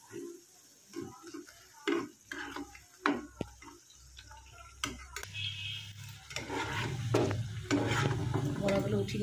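Prawn head fritters frying in hot oil on medium heat, a steady close sizzle that swells louder and denser in the second half, broken by sharp clicks and taps of a utensil stirring and lifting the fritters.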